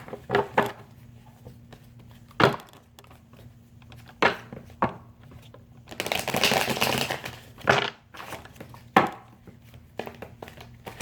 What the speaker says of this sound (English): And I'm shuffling, Scorpio, for your energy for May 2017.